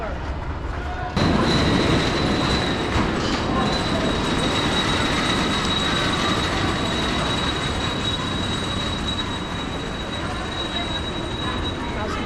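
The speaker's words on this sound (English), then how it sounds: "you can hear it absolutely roaring around the tracks from the pool" A large wooden roller coaster at PortAventura rumbles and rattles steadily along its track, heard from a nearby pool, with a thin high squeal riding over the continuous roar.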